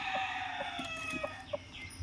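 A native country mother hen sits on her straw-lined brooding nest, giving soft, short, evenly spaced clucks against a steady high-pitched background of chirping, fairly faint and without any talking.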